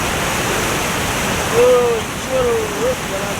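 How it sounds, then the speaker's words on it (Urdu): Fast-flowing cold river water in Naran Kaghan rushes as a loud, steady broadband roar, with a voice briefly heard over it. "پانی کتنی تیز چل رہا ہے، بہت زیادہ تیز چل رہا ہے پانی"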